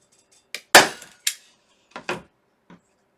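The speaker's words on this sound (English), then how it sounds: "then you just want to staple it on there" A staple gun drives staples through a jute hanger into square wooden home decor, giving a few sharp, close, percussive snaps with short pauses between them.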